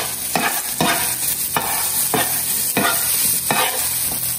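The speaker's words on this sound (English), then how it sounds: "even though this is just seasoning that we are having our pot here sauteing" Seasoning sautéing in a pot for Korean fried shrimp, with a steady close sizzle broken by about six rhythmic bursts of stirring, roughly one every 0.6 seconds.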